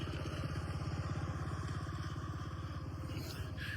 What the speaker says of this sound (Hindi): एक और बाइक आ रही है।